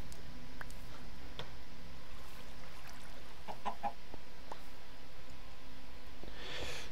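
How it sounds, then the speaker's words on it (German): Chickens in the video game Minecraft cluck in scattered short calls, faint against a steady low background hum, with a small rustle near the end. "Ja, ihr Hühner, verzieht euch."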